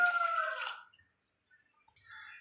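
Water poured onto soaking rice for a mushroom biryani, a fairly loud splashing pour for under a second, then quiet with faint drips and trickles.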